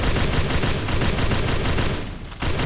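Video-game gunfire rattles in dense, continuous rapid bursts. It is loud and near, and it drops out briefly just before the end.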